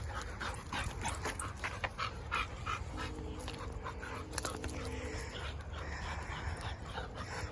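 A pack dog pants rapidly and whimpers softly, close by and steady, with a faint tonal whine midway over a noisy indoor background.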